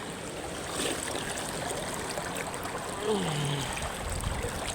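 A knee-deep river with visible stones flows in a steady close rush and trickle while someone wades across it, with a faint rising tone briefly heard over the water.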